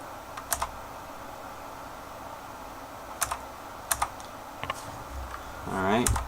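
Password being typed on a computer keyboard, with sparse, close key clicks in small bursts and pauses, ending in a brief rising electronic whir; faint talk sits underneath.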